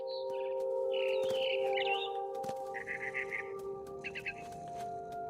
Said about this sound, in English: All I cared about was eating that mama bird.